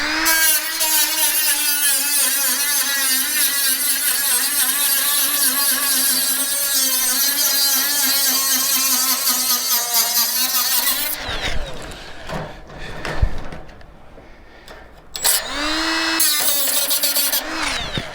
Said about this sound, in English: I'm going to use my little grinder that I brought out for the coil rod.